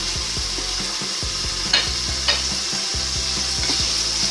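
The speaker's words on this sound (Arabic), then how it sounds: "يتقلى شويه، الدجاج نتاعنا يتقلى شويه" Chicken sizzling and frying in a pan with onion and garlic while being stirred, with steady loud crackle and rhythmic spoon scrapes and a couple of sharper clinks, no talking.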